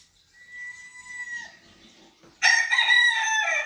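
A rooster crows as a played-back recording: a thin, drawn-out call that fades, then after a short gap a second loud, bright crow with a full harmonic sound cuts in abruptly.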